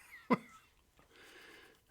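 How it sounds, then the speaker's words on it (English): One short, sharp throat clearing, then quiet with faint low background noise. "I don't mean to clear my throat so much"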